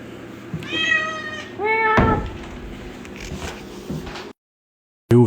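A cat meows repeatedly and close by, a few drawn-out calls with rising and falling pitch. A sharp scrape or rustle and light handling noises follow, then a brief silence and a short bump.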